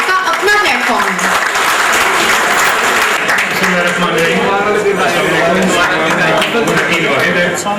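An audience at a Jazz Mobilink prize show in Jhelum gives sustained, loud applause as a guest is called to the stage, a dense steady wash of clapping with a few voices beneath it.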